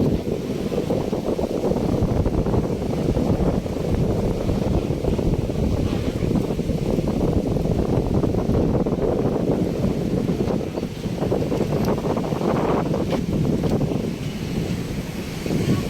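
Strong wind buffets the microphone over heavy surf at the Manila Bay beach along Roxas Boulevard after a typhoon, a loud continuous roar of wind and breaking waves with no pause.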